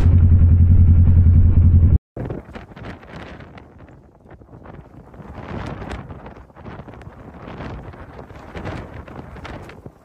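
Strong gusting wind buffets the microphone during a Kawasaki Versys 650 motorcycle ride, sand mixed in, a loud steady rumble at the start giving way to continuous rough wind roar with clattering.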